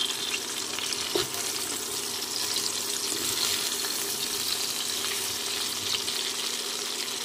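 Potatoes fry and get stirred in a pan with the lid off, for a Bengali aloo paneer dalna, giving a constant hiss of sizzling and a scrape or two from the spoon.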